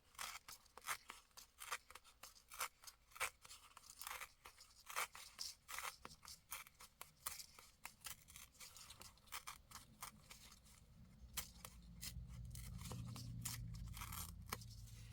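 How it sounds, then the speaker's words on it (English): Ivory paper pages are torn by hand for a junk journal, giving a long series of quiet, close ripping and crackling bursts, ending over a low rumble. "So just tearing the pages."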